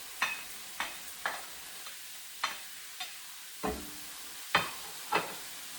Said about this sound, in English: at the same time, I'm going to put the beef back.